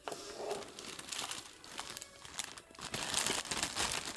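Packaging from a Bissell Big Green carpet cleaner crinkles and rustles as it is unboxed, a quiet, continuous crackle of plastic and paper handled close by.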